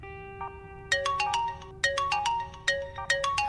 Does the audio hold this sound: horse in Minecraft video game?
no